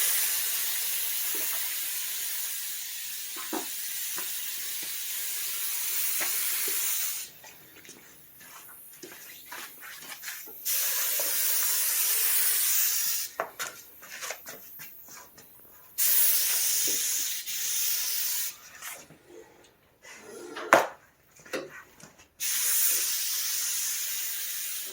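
Paint sprayer applying water-based paint to a Valiant car hood, long hissing spray bursts of several seconds each, separated by quieter gaps with faint clicks and handling noise.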